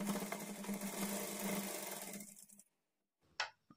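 Sewing machine stitching a blouse, running in a steady close whir for over two seconds before slowing and stopping, followed by silence and a short mechanical clunk.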